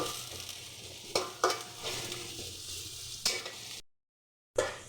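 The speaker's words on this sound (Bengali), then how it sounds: "তেলের মধ্যে পেঁয়াজ কুচি এখন পেঁয়াজটাকে একটু ভেজে নেব" Chopped onion fries in hot oil for chowmein, a steady close sizzle broken by a few sharp stirring scrapes and a brief silent gap near the end.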